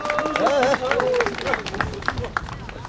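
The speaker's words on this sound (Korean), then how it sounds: "큰 박수 부탁드리겠습니다." An audience at a political youth committee rally claps in a scattered burst of applause, with a voice speaking over it throughout.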